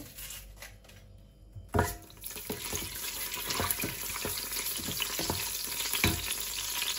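Pre-fried onions (beresta) go into about half a cup of hot oil and are stirred, giving a close, steady sizzle broken by sharp scraping clinks of a spoon against the pan after a brief quieter start.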